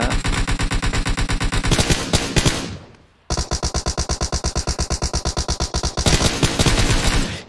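Sustained automatic gunfire from a PUBG Mobile match, loud and close, with rapid regular shots in long bursts, a brief pause near the middle, then more continuous firing.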